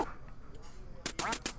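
Duck quacks from the NES game Duck Hunt, a few loud broadband bursts packed into the final half-second after quieter game noise.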